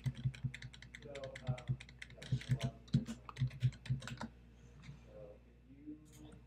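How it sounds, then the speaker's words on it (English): A card number being entered on a computer keyboard, with close, crisp key clicks arriving in quick bursts and short pauses between them, then a few scattered keystrokes with faint background noise. "We're going to put in a card number."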